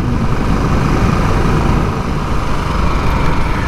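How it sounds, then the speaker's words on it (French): Harley-Davidson Nightster motorcycle engine running steadily, a loud, dense, continuous rumble heard close up with no talk over it. "il est vraiment bien ce moteur"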